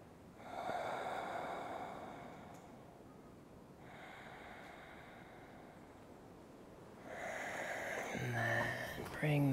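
Slow, deep breaths during a vinyasa yoga flow: three long, airy inhales and exhales heard close and soft, with a voice briefly at the end.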